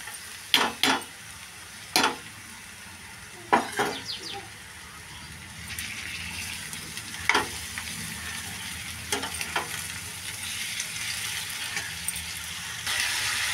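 Bottle gourd pieces and sliced onion fry in a pan for a milk-based curry, with a steady soft sizzle broken by several sharp scraping stir strokes early on and a few more later, no voices.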